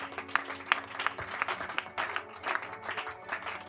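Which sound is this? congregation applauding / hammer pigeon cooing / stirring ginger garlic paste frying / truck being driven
congregation applauding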